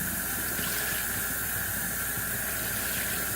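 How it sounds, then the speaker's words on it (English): Dye water streams and splatters steadily out of a tie-dyed t-shirt as it is wrung, a continuous dense trickling hiss without pause. "I'm going to try to squeeze out as much of the dye as I can"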